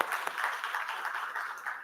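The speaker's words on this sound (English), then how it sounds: "I want to give a big round of applause for everyone who's been using SolidWorks." Audience at a SOLIDWORKS 2026 launch event in Bengaluru applauds, a soft, steady patter of many hands clapping at some distance, fairly quiet throughout.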